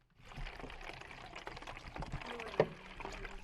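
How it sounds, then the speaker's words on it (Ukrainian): Water from a 20-litre canister is poured in a basement in Siversk, making a continuous gurgling splash with a brief louder slosh near the end. "20 літрів води, які ми привезли, ділять між двома підвалами."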